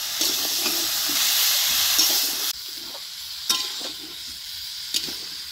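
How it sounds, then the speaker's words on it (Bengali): Bottle gourd being stirred into spices in a hot pan, a strong steady sizzle and hiss with a few scraping clicks of the spoon, the sizzle dropping off halfway through. "লাউয়ের সাথে ভালো করে আমি মিক্স করে নিব এরকম করে"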